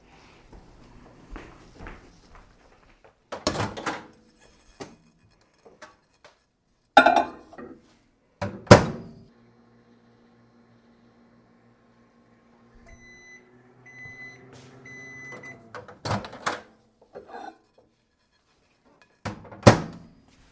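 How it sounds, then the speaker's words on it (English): Microwave oven heating a small batch for a short run: the door clunks open and shut, then a steady low hum with beeps follows, framed by clinks and handling noises around it. "I'm gonna just now pop this in the microwave for 15, 20 seconds"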